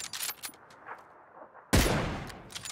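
Gunfire in the shooter game PUBG: a few faint distant pops early on, then a single loud, close blast that rings out and decays, with no talking.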